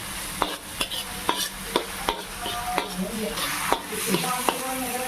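Frying food being stirred in a pan until light brown, a steady sizzle broken by regular scraping and clinking strokes of a spoon, roughly two per second, close and clear with no talking.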